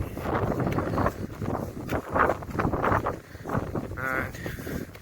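Gusty wind buffets the microphone on a foggy, blustery bike ride near RAF St Eval, a steady rough roar with surging gusts that rises and falls throughout.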